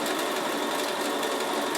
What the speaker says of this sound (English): it takes longer on a sewing machine than it does on an overlocker